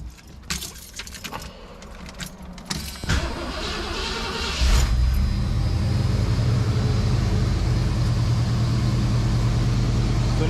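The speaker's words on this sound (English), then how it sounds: "We're gonna fire her up and see how she holds idle." A Foxbody Mustang 5.0 with a dirty EGR valve and a rough, surging idle: keys jingle and clicks come first, then the engine cranks and catches, settling into a loud, steady idle rumble close by.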